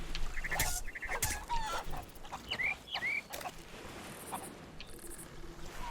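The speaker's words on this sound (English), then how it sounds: "Apparently these are partially amphibious chickens." Chickens cluck repeatedly in the pirate video game Sea of Thieves, a string of short, fairly close squawks and clucks over a steady ambient game background, with no talking.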